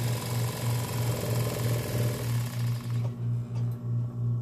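An industrial sewing machine stitches fox fur leather with a loud, close, rhythmic motor thrum and a rapid pulsing needle beat that slows into distinct strokes before stopping.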